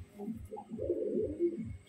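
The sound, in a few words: female pigeon cooing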